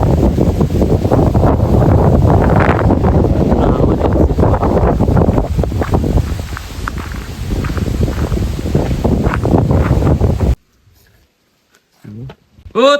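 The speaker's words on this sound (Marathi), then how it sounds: "सकाळपासून खूप वारा आहे गावी. रोजच लागतोय, आज जरा जास्तच आहे." Strong cold wind gusts roar continuously across the microphone in a Konkan village in winter, loud and buffeting for about ten seconds before dropping suddenly to near quiet.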